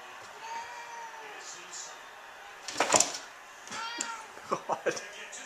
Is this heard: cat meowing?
yes